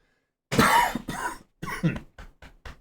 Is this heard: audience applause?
no